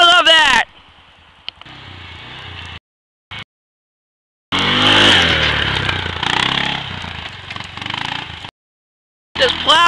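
A Kawasaki 4x4 ATV engine revs hard in bursts while plowing over small trees, with brief gaps of silence between the loud, close runs of engine noise.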